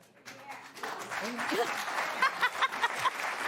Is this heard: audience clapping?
yes